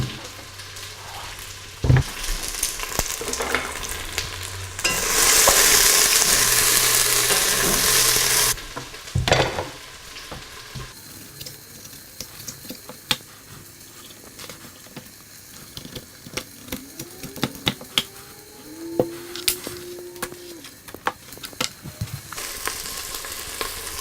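Grass-fed pork stew meat sizzles and fries in a pan, a steady crackling hiss broken by stirring scrapes and clatters, then quieter spatters as the heat drops.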